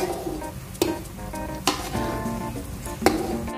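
Banana turon frying in a pan with caramelized sugar gives a steady close sizzle, broken by a few sharp clinks and scrapes of a utensil stirring against the pan.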